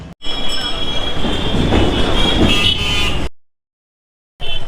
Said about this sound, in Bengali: দুটো বগি নিয়ে এই ট্রেনটা চলে